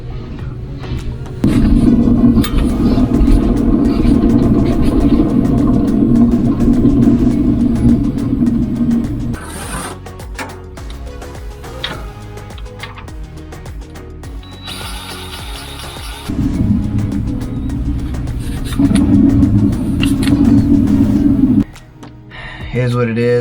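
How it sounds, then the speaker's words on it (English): An exhaust fan motor with a worn front bearing grinds and rattles with a steady mechanical rumble, fading in intensity midway before returning strongly, with a person talking over it. "I'm definitely hearing this front bearing."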